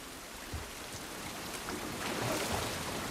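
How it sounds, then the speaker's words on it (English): Rain falls steadily outdoors in the video game The Last of Us Part 1, a dense continuous hiss with slight swells and no voices. "This rain ain't gonna do us any good."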